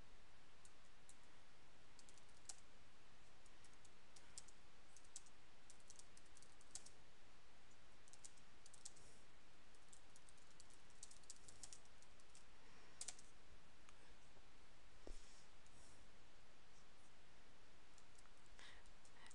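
Steady typing on a computer keyboard, quiet, close-up key clicks in an irregular rhythm continuing throughout with no talking.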